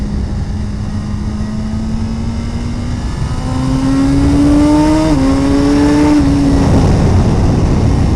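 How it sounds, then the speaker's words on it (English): A 2017 Suzuki GSX-R1000R sportbike engine drones close and loud, its pitch climbing steadily, then jumping upward as the rider downshifts from third to second gear, followed by continued engine roar. "Good shift down from 3rd to 2nd again."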